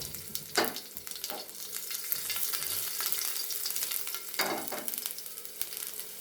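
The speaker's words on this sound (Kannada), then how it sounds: "ಈಗಾಗಲೇ ನಾವು ಜಜ್ಜಿಟ್ಕೊಂಡಿರುವಂಥ ಬೆಳ್ಳುಳ್ಳಿ ಏನೈತಲ್ಲ ಅವುಗಳನ್ನು ಹಾಕೋರಿ" Crushed garlic hits hot tempering oil for dal, setting off a close, steady frying sizzle, with sharp stirring scrapes of a spoon against the pan early on and again near the end.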